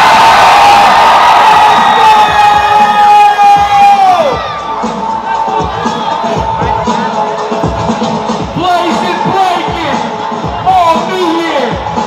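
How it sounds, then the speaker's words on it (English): A loud crowd screams and cheers at a breakdance b-boy final battle in Sacramento, a sustained roar of whoops and shouts that dips slightly partway through, with individual voices yelling over it. "Crowd, I'm gonna need y'all to scream nice and loud."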